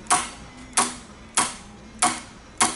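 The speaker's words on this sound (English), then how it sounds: "then I'm going to take my staple gun, put 5 staples across." A staple gun drives staples into upholstery webbing, firing five sharp, evenly spaced clacks about every 0.6 seconds, each a crisp percussive snap with a short decay, close and loud with nothing else audible.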